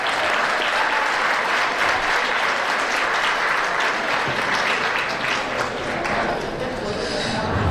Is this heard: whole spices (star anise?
no